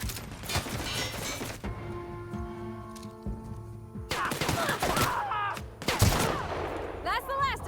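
Gunfire in the video game The Outer Worlds rattles out in rapid volleys of sharp shots, with a tonal game hum in the middle and more bursts of firing and impacts toward the end.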